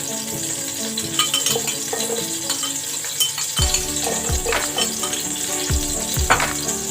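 Garlic sautés in butter for an Egyptian-style macaroni dish, giving a steady close sizzle with light clinks and stirring scrapes of a utensil against the pan throughout.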